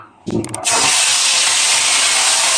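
Milk poured into a hot pan of semolina halwa: a few brief clatters, then a sudden loud, sustained steaming hiss that fills the rest of the moment.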